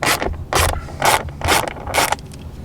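Five quick ratcheting bursts, evenly spaced, as a socket wrench loosens the bolts holding a BMW E90 front door speaker; close and loud, with no talking.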